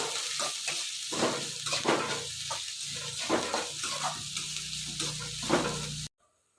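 Chopped vegetables including capsicum fry in a pan for veg fried rice, a close crackling sizzle broken by repeated scraping stirs, moderately loud, cutting to silence at the end.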